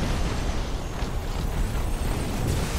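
A warship blown apart in the space strategy game Battlefleet Gothic Armada: a dense, rumbling roar of explosion with crackling bursts, holding at a steady loudness for a few seconds.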